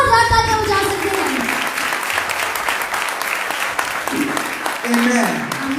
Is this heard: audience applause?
yes